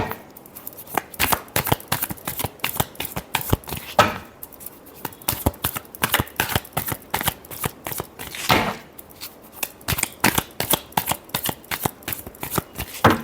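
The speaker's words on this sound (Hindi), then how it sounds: "Last shuffle." Close, steady hand shuffling of a tarot deck, with quick papery flicks and snaps in continuous bursts broken by short pauses and occasional louder riffles, heard alone without voices.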